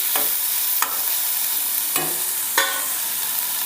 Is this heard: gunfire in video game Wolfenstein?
no